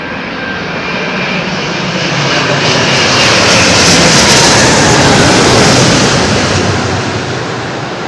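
A big jet passes low overhead at London Heathrow, a loud, broad roar that swells to a peak midway and then slowly fades, with no voices.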